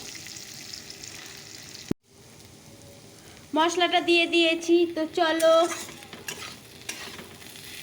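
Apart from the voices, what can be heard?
potatoes and cauliflower frying in a pan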